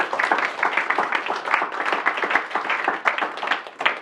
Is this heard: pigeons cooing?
no